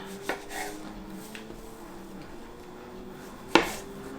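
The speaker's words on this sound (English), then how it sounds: "I think just to help me split it into 4, I'll get a knife" A knife cuts through biscuit dough on a board, dividing it into four pieces. A soft thud comes early, then quiet scraping, then one sharp knock of the blade on the board near the end.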